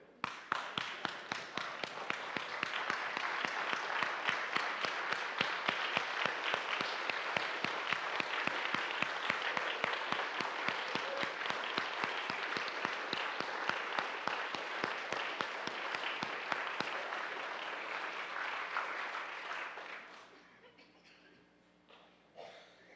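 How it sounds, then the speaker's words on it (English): A large audience rises in a standing ovation, dense sustained applause filling about twenty seconds before trailing off into a quieter room. "I'm going to lead you in this standing ovation"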